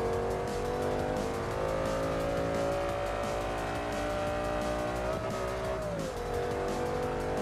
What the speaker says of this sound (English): I love the sound of the Audi R8.